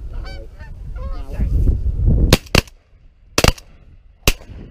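A skein of Canada geese honks in flight on a September evening, a run of loud nasal calls over low rumbling background, followed by several sharp loud gunshot bangs spaced apart.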